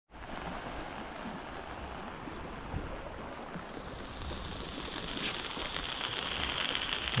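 Heavy monsoon rain pours down around a flooded village bridge in Konkan, a dense, constant hiss of rain and rushing water that swells slightly in the later seconds.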